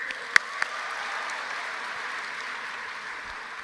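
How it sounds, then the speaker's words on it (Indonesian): Steady applause from a large crowd fills the whole stretch, a dense even wash of clapping with a couple of sharper claps early on. "Presiden Republik Indonesia, Bapak Jokowi, tepuk tangan"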